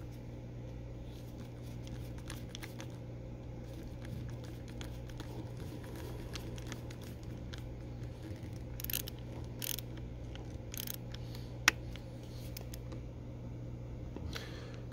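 A long screw is driven slowly by hand into a back band, giving faint, scattered ticking clicks over a steady low hum in a quiet room.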